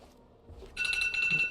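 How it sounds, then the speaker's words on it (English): A mobile phone ringtone starts abruptly after a quiet moment, a bright, tonal chiming pattern that repeats several times in quick succession, moderately loud and close. "That was my phone."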